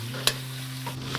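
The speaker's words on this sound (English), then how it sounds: "Just going to gently fry that off till it goes a nice light brown colour." Chorizo frying gently in a pan, a soft, steady sizzle with a low hum beneath it and one sharp clink of a utensil against the pan, close and quiet with no talk.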